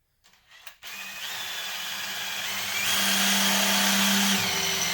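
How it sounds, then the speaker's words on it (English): A power drill runs steadily through a part on a Ford 8.8 differential conversion kit for a Mazda RX8 and NC Miata, boring center-punched holes. The whine is close and continuous, rising in pitch and load midway, with no talking. "we're going to through drill these 7 holes using the drill bit and our center punch holes"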